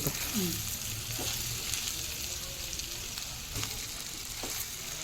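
Ivy gourd and coconut fry in a pan with a steady, soft sizzle and crackle, broken by a few faint clicks of stirring.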